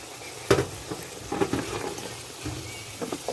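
Carrots dropped into a pot of sizzling chicken curry, giving a sharp burst of hissing and clattering, then softer crackles and stirring sounds with a few further bursts, fairly close.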